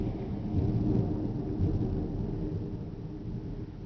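Thunder rolling through a severe storm, a steady deep rumble with rain hissing underneath, sustained and fairly distant with no voices.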